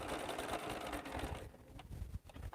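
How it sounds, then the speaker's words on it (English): A sewing machine back stitches a mitered quilt corner, a quiet, fast, steady mechanical whir that pauses briefly and restarts. "So just make sure you always back stitch on a mitered corner"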